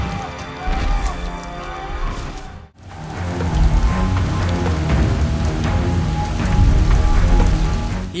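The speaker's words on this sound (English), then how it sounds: "Here comes the rain." Steady heavy rain in a video game pouring on surfaces, a dense hiss with scattered drops, briefly dipping to near silence before resuming loud and continuous.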